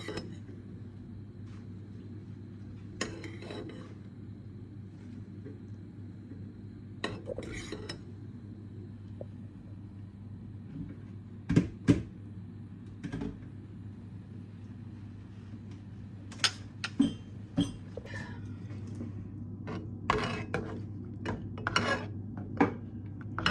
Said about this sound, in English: I am using the fork to transfer the sweet egg threads to the cooling rack, and then I'm going to use the skimmer